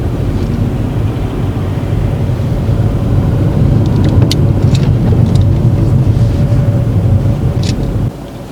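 A learner driver's car pulling away during a driving test, a steady loud engine and road rumble running close throughout, with faint higher ticks near the middle before it drops sharply near the end.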